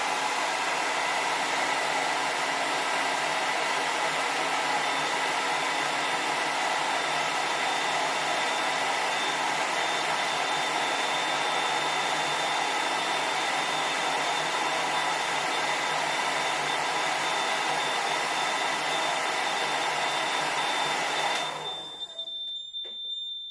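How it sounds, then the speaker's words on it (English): A hairdryer blows steadily for about twenty seconds, warming a small thermistor in a temperature-sensing alarm circuit. The loud, even whoosh with a constant whine cuts off near the end, leaving a quieter tone. "I'm going to heat up our thermistor using a hairdryer"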